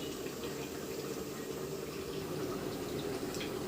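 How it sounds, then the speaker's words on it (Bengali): Ghee pours into a pot of dum biryani as a soft, continuous trickle, faint and steady throughout, with no talking. "ঘি দিয়ে দিচ্ছি।"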